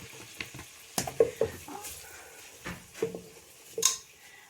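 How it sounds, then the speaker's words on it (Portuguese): White onion and two garlic cloves go into a pan for a farofa, giving soft frying sizzle with stirring scrapes and a few sharp utensil clinks, fairly quiet and close, with no talking. "agora eu vou colocar, ó, uma cabeça de cebola branca e 2 dentinhos de alho"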